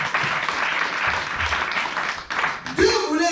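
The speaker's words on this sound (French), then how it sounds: "Acclamons le Seigneur." A church congregation at a spiritual retreat applauding and cheering together, a dense, sustained burst of clapping with raised voices that swells and then breaks into louder shouts near the end.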